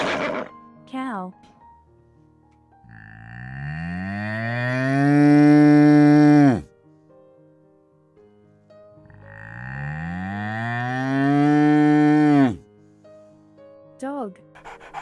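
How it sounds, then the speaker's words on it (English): A cow on a farm gives two long, loud, drawn-out moos, each lasting about three seconds, separated by a pause, with short faint sounds at the start and end. "Cow."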